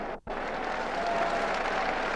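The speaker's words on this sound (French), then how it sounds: "le public applaudit" Stadium crowd at a 1964 European qualifying football match between France and Hungary applauds in a steady, dense wash of clapping that swells after a brief lull and carries on without a break.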